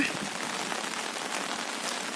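Rain falls steadily outdoors, a dense even hiss of drops pattering on surfaces from start to finish with no break.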